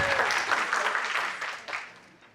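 An audience claps during an education presentation on student assessment, dense applause that starts at full strength and tapers off over about two seconds.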